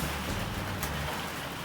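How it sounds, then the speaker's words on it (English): Rain drums steadily on a tin roof, a dense hissing patter with a low rumble underneath, continuous and fairly loud for the whole moment. "It's busy raining on my tin roof."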